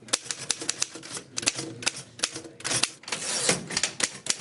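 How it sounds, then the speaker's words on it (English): Rapid, uneven keystrokes on a 1926 Underwood No. 5 manual typewriter, sharp close clacks tumbling in quick bursts with brief pauses, clear and alone with no voices. "If you hear me typing, you know I'm not working."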